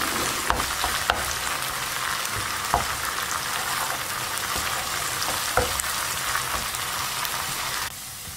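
Tomato chutney fries in a pan with a continuous crackling sizzle and scattered stirring clicks, close and without speech, easing slightly quieter at the very end.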